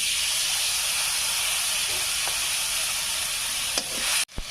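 Spices mixed with water hit hot mustard oil already holding five-spice seeds, bay leaves and onion, setting off a loud, steady sizzle and hiss that runs throughout, with a few clinks and a sharp knock near the end.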